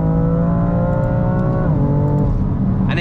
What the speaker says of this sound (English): lurches forward on the gear shift because you've got dual clutch transmission, it bumps.